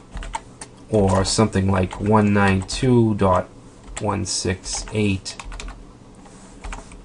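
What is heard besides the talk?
typing an IP address on a computer keyboard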